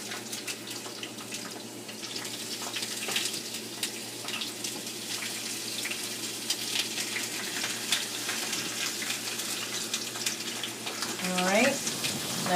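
Zucchini and squash sizzling on a griddle pan, a steady dense crackle of frying that holds throughout, with small clatters of food being moved near the end.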